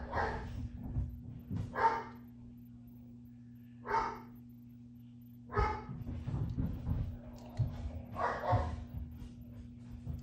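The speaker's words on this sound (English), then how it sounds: "The dogs are going crazy up there." Several dogs bark in separate bursts from another floor, a handful of sharp barks spaced a couple of seconds apart over a constant low electrical hum while an arcade cabinet is being repaired.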